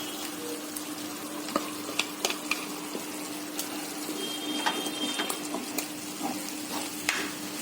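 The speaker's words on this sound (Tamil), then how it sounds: "இப்போ நம்ம எடுத்து வச்சுருக்கிற தக்காளி பேஸ்ட்டு சேர்த்துக்கலாம்" Onion, ginger-garlic and tomato paste for channa masala sizzle in a frying pan. A steady, soft crackle runs throughout, broken by sharp clicks and scrapes of stirring.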